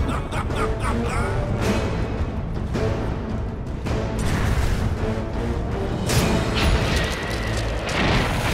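Dense, loud game combat in a Dota 2 match, with heavy booms, bursts and explosive impacts piling up continuously during an assault on a tower, with no speech.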